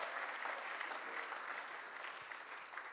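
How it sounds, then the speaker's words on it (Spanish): A church congregation at a Spanish-language service claps together in steady, fairly faint applause that carries evenly through the room without voices over it. "Un aplauso a la gloria de Dios por la misión de Jesucristo."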